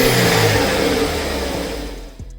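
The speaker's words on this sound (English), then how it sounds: "You have that full on that dump valve sound." VW Golf Mk6 engine with a new air filter revving up and letting off, a loud close roar fading down, with a small whoosh near the end that fits a dump valve release.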